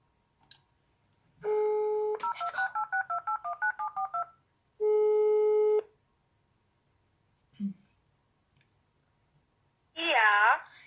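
Telephone dialing tones sound before a call: a long steady tone, a quick run of keypad beeps, another steady tone, then a short chirp, each clear and separated by silence.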